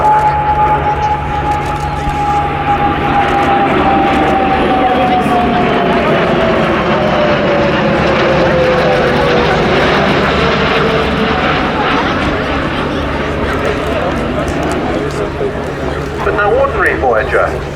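An Airbus Voyager transport jet flies over the Cosford air show with a loud, sustained engine roar and a slowly falling whine, close and dominant from start to end.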